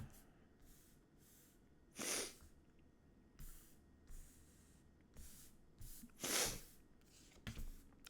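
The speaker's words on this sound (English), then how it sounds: "I do apologize for the sniffles." Close, quiet sniffing and nasal snorts from a person with a cold, two sharper sneeze-like bursts standing out among softer intermittent sniffles in a hushed room.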